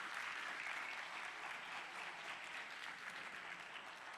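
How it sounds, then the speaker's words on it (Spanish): A crowd at an eSports exhibition event applauds continuously, a dense steady patter of clapping that stays even throughout, heard from a distance. "un aplauso también para Araneae"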